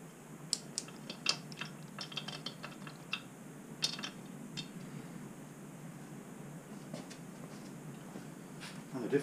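A ratchet with a socket and extension working on the engine nuts of a BSA Rocket Three A75V motorcycle: faint, close metallic clicks and light taps in small irregular groups over a steady background hiss.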